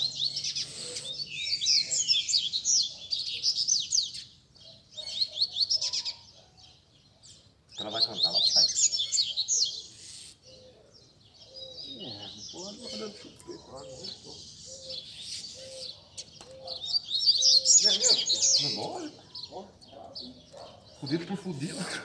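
Several coleiros (double-collared seedeaters) sing in bursts of bright, rapid chirping and trills, fairly faint, with pauses between phrases and a voice talking quietly underneath.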